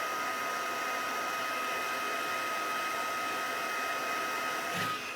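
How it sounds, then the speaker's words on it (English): A heat embossing tool blows hot air onto a stamped rocket on a card, giving a steady whirring hiss with no talk that holds level throughout and cuts off abruptly near the end. "I'm going to heat emboss my rocket"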